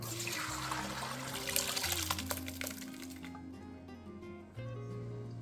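Water drains and splashes out of a pot of boiled beef trims being rendered for tallow, a continuous gushing pour with clinks that thins out, then a low tonal hum returns.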